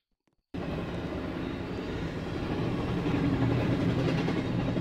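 A train rumbling past in the Roblox game Trains vs Cars, starting abruptly after a brief silence and holding as a steady, dense roar that grows slightly louder toward the end.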